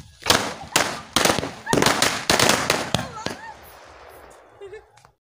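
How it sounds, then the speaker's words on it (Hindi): Firecrackers set off together during Diwali crackle in a rapid string of sharp, loud pops over the first few seconds, then fade into a hissing fizz and a few faint late crackles. "तो अभी सारे पटाखों को एक साथ जलाने वाली हूँ"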